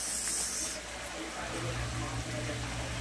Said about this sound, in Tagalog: Lagay natin ang ating mushrooms